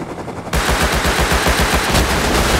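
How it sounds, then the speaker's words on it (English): Automatic gunfire from an auto turret in the Rust video game, a loud, rapid burst of shots that starts abruptly and continues as a steady rattling stream until the end. "Auto turret got me."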